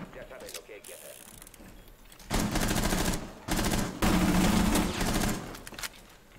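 Rainbow Six Siege gunfire comes in three loud automatic bursts separated by short pauses, with mechanical clatter in between and a little background talk.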